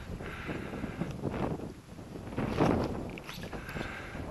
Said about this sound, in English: The wind's coming straight from there.